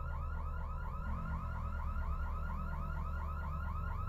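Loud car alarm sounding without pause, its electronic whooping tone repeating in quick regular cycles over a low droning hum, near and alone with no voices.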